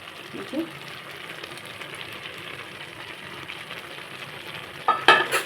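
Ash gourd cooks in a pan with fried prawns being added, a steady soft sizzle running throughout, with a few clatters of stirring and utensil knocks near the end.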